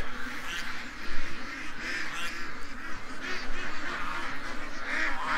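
Several ducks quack and honk nearby in a busy, overlapping chorus, with louder calls standing out against a constant rustling background.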